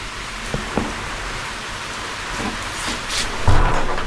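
Steady rain falls outdoors, a broad continuous hiss with a few soft drips and a low rumble near the end, no voices over it.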